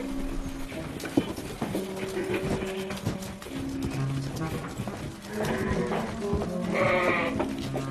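A flock of sheep in the Austrian Alps bleats repeatedly through steady farmyard commotion, with clattering hoof-like knocks and a louder burst of overlapping calls near the end.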